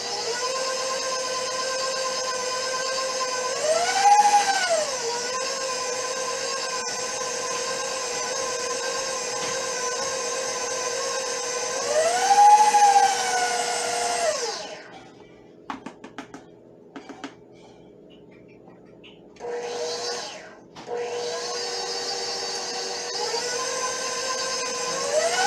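Electric mixer blending peanut butter cookie dough, a loud steady motor whine that twice rises in pitch, then stops briefly with scraping taps before starting up again.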